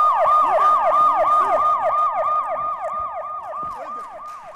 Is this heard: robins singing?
no